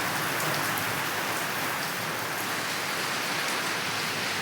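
Heavy rain pours down steadily outdoors among trees and plants, a dense, loud, unbroken hiss of drops striking surfaces with no voices.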